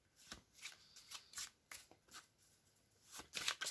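A deck of oracle cards is shuffled up close in quick, repeated riffling bursts, soft and rhythmic, with no talking.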